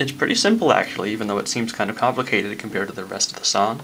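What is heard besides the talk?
None of the usual background noises is heard.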